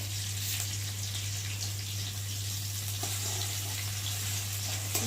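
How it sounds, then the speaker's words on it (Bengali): Garlic frying with onions in a pan for a spicy Bengali bhola fish curry, a steady broadband sizzle running continuously throughout at moderate level under a constant low electrical hum, with no talk. "ভালো করে একটু ভেজে নেবো রসুনটা, যাতে কাঁচা গন্ধটা চলে যায়"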